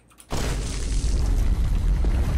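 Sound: explosion in a video game

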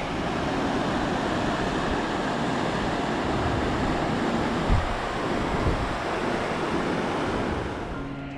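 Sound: flowing water of Granite Canyon Creek

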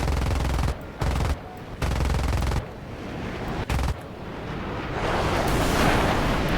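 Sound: F-5C aircraft cannon fire in War Thunder video game

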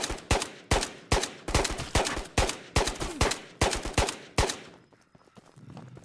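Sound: gunfire from the video game Ghosts of Tabor

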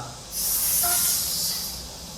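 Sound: spray sound from video game GTA San Andreas

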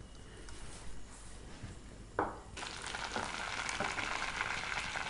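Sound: tempering spices and leaves frying in oil

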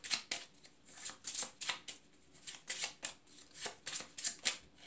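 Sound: shuffling tarot cards

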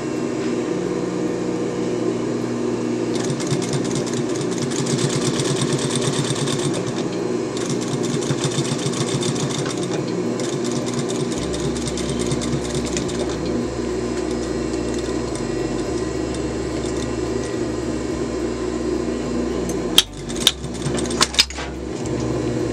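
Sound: sewing machine stitching a waistband

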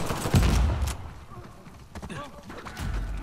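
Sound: gunfire in video game Uncharted: The Lost Legacy

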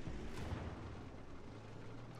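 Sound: artillery shot fired in the video game World of Tanks

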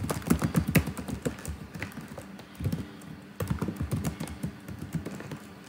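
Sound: typing on a computer keyboard

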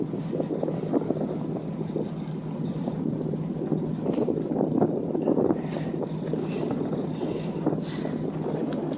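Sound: wind blowing, wind noise on microphone

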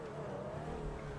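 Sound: Range Rover engine revving in GTA 5 video game

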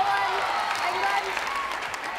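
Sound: netball crowd applauding

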